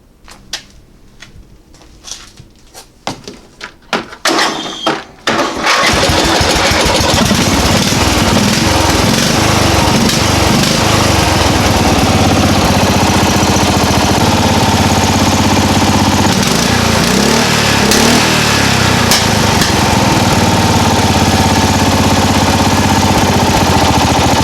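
A small lawn mower engine clatters through a few sputtering start attempts, then catches and roars loudly and continuously at high revs, held at a steady, droning pitch close by.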